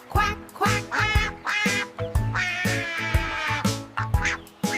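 Voices in a children's nursery rhyme about ducks sing a string of loud, rhythmic quacks imitating a mother duck, over a bouncy musical backing.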